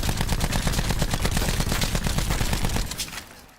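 A Rampart 17 rifle with no attachments fires in Call of Duty Black Ops 4, a fast, loud, close stream of repeated shots in a steady rhythm that stops abruptly and trails off in a short echo, with no talking.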